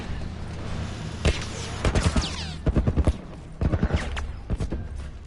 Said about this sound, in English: I love the shotgun.